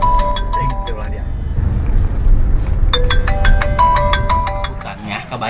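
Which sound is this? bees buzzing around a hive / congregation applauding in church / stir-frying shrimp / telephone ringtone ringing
telephone ringtone ringing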